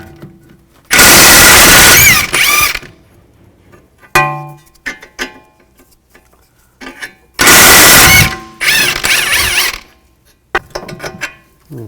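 Loud bursts from an impact wrench or ratchet spinning off strut bolts and nuts on a 2004-10 Toyota Sienna front wheel assembly, two long whirring runs separated by clanks and metallic taps of loosening hardware.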